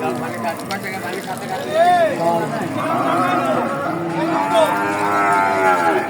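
Cattle low and moo repeatedly at a busy livestock market in Bogura, with loud, drawn-out calls rising over crowd chatter and people talking close by.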